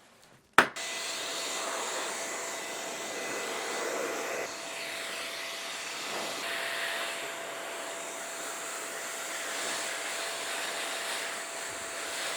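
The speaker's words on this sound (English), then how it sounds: "So I use my blower outside just to remove some dust." Steady, loud rush of an air blower used outdoors to clear dust from an old 2011 laptop, preceded by a sharp click as it starts, then a constant whooshing roar with a faint steady whine for the rest.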